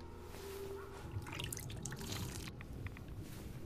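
Running water in the Fallout 4 video game, a steady dripping and trickling flow like a falling water wall, heard close and continuous for a few seconds with no talking.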